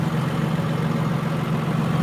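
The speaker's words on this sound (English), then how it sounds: "These MXMs have a fair sound when they're idling" An MXM tractor engine idles steadily on its own, a constant low throbbing hum with an even, unchanging level and no rev changes over the two seconds.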